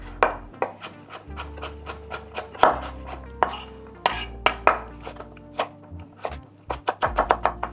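A knife chops vegetables on a cutting board, cutting them in halves and thirds in a steady series of crisp, close taps with short pauses, no talking.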